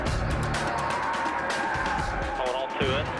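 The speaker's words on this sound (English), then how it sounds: "Juan Pablo Montoya has spun off turn 4 to put us under caution for the 8th time today" Juan Pablo Montoya's race car spins off turn 4 at the 2011 Daytona 500, its engine roar breaking into rising tire squeals near the end over a dense, noisy race broadcast background.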